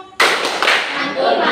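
A classroom of pupils does a rhythmic clapping chant, a burst of claps and voices starting sharply and continuing steadily near and loud.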